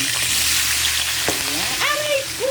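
Shrimp dropped into hot oil with chili crackle and sizzle loudly and close by, a broad steady hiss broken by sharp spits and a few squeaky scrapes.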